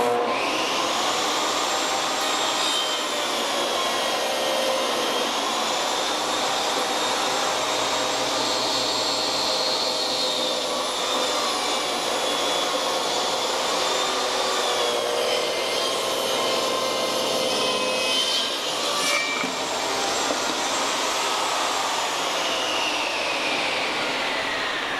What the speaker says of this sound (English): The table saw is quite loud.